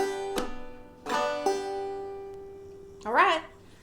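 Clawhammer banjo playing the opening part of a beginner tune: a few bright plucked notes with ringing sustain and a brief bent-sounding note near the end, played quietly and alone.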